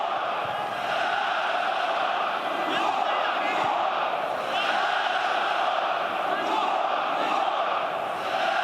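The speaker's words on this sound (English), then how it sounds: "It's a fairly sparse crowd here tonight." Thin crowd noise from a sparse football stadium crowd on a wet night at Croatia v Sweden, a continuous murmuring roar with occasional swells and shouts, steady and moderately loud throughout.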